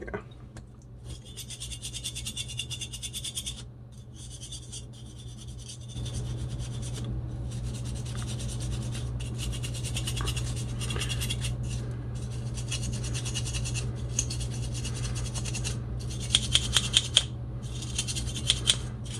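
A brush scrubs a PlayStation 2 Fat console during cleaning, giving a close, continuous bristly scratching in uneven bursts with brief pauses, over a steady low hum and a few sharp clicks near the end.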